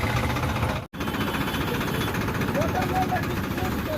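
A new Farmtrac Powermax tractor engine idles with a steady, dense rumble that runs throughout, broken only by a brief dropout near the one-second mark.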